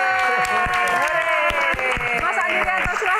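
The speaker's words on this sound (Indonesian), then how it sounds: "Tepuk tangan sekali lagi teman-teman" Scattered audience claps at a Q&A event sound under a sustained, tonal voice or music, with a few sharp claps standing out from a thinner background patter.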